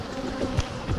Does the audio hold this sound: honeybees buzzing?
yes